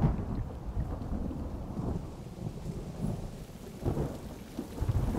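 Heavy rain pours steadily in a film's rain scene, with deep rolling thunder rumbling underneath and swelling in waves, dense and enveloping with no voices.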